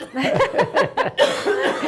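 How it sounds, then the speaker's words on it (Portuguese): Several short coughs from a woman with an allergy or asthma, coughing close into a microphone during an interview, in a rapid run of bursts with brief gaps, loud and near. "desculpa que eu estou tossindo aqui no microfone"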